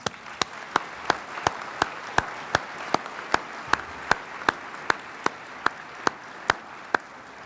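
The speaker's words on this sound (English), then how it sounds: "Applause." Applause at a Riverside State of the City address, heard as a steady run of sharp, evenly spaced claps of even loudness over a soft crowd background, with no talking.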